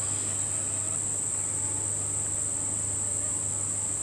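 A steady, high-pitched insect drone of cicadas fills the background without pause, joined by a faint low hum.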